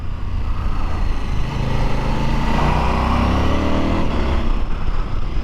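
A KTM 1390 Super Adventure S Evo motorcycle engine pulls hard and loud, its pitch rising then dropping as a quick short shift is made, a steady close roar with no talking.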